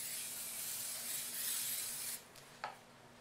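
A long steady hiss of canola cooking spray greasing a cake pan, then it cuts off, followed by a soft clink.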